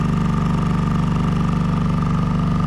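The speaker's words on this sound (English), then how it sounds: "My brand new inverter generator, it's running 2 space heaters." A new inverter generator runs steadily under the load of two space heaters in freezing cold, giving a loud, continuous engine drone with a fast regular pulse and no talking.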